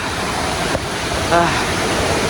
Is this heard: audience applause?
no